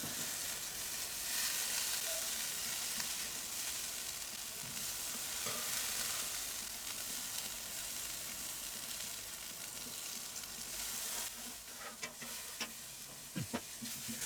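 Butter sizzles on a barbecue hotplate before pancakes go on, a steady, fairly soft frying hiss that runs throughout, with a few light scrapes and taps near the end.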